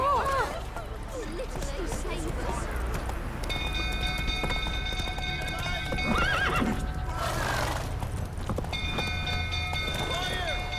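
Horses whinny repeatedly over a steady clatter of hooves in The Witcher 3 video game, with a constant mechanical background hum throughout.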